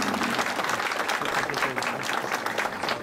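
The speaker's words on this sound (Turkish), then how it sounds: "Bu başarının önderi için bir alkış alalım Sayın Rektör." Applause fills a hall for a university rector at a ceremony opening a stone-working department in Midyat, a dense, steady crowd clapping that carries on loudly for the full stretch.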